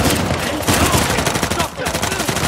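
Sniper fire in Uncharted: The Lost Legacy, a loud dense stretch of rapid gunshots and impacts with a short break midway, mixed with game ambience.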